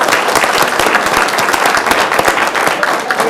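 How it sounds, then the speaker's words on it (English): An audience at a Westland City Council meeting applauds a middle school student being honored: loud, dense, sustained clapping from a roomful of people, unbroken throughout, with no voices on top. "let's give a round of applause for Story"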